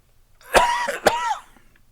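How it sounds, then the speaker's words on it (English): A single person coughs twice in quick succession, close and fairly loud, with short harsh bursts and a throaty, rasping quality. "I got a cough"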